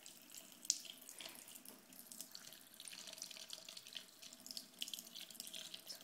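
A cat drinking from a running sink faucet, with steady splashing tap water in front and faint lapping and drips mixed into the flow.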